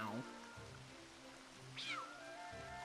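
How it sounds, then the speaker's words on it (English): A cat meows in a video game, one rising, bending cry in the middle over a background of music and ambient game sound. "Meow."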